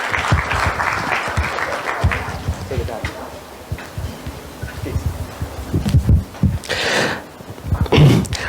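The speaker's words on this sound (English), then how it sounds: "Can you please have a round of applause?" Applause from a conference audience at an HR event, uneven bursts of clapping swelling and fading, mixed with a host talking over a loud hall sound system.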